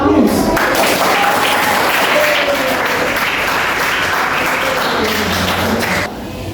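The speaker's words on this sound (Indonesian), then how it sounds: "Berikan aplaus." A class of students claps together in a sustained round of applause lasting about six seconds, loud and dense throughout, then cutting off sharply.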